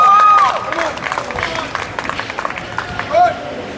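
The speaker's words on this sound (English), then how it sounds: "Give him a round of applause." Crowd applause and cheering at an IPF powerlifting meet after a 215 kg squat, with dense clapping and shouts that stay steady and fairly loud, a raised voice standing out early over the hall noise.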